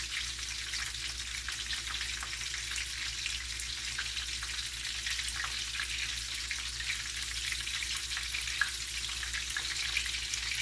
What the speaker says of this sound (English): just eyeball it and just make sure that it's frying well